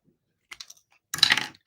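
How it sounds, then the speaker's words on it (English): Scissors snip through cardstock during card making: a few light clicks, then one crisp, louder cut, close and alone. "So I'm going to snip that with my scissors."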